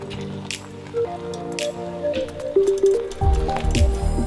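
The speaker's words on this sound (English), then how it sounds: "then you pour in the initial amount of water and you're gonna fill this thing up about halfway in the top" Hot water poured over coffee grounds in a glass Chemex brewer, a wet trickling and gurgling pour with soft splashes that grows fuller and louder toward the end.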